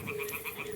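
Toads croaking in a video game, a rapid run of repeated rhythmic croaks, moderately loud and close, with no talking.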